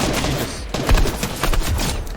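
Rapid bursts of video game gunfire in a helicopter shooter match, loud, dense volleys with sharp individual shots piling up across the whole clip, no talk.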